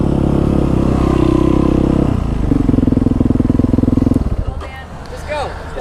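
An Aprilia motorcycle engine chugs loudly up close with a pulsing exhaust beat that falters and stops as it stalls, followed by people talking.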